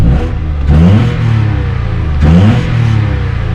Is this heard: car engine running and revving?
yes